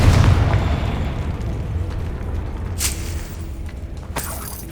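A Confringo blasting spell goes off in Hogwarts Legacy with a heavy, booming explosion that rolls into a long, decaying rumble, followed by a few sharp crackling pops.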